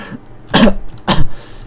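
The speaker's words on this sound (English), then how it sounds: "Made me fucking cough, man." Two short, harsh coughs from one person, close and loud, spaced about half a second apart with quiet in between.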